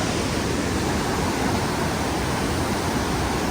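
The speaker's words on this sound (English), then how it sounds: "That's a huge river." A huge, powerful river on the hike to Machu Picchu rushes past in a steady, loud, broadband roar of churning water that never lets up.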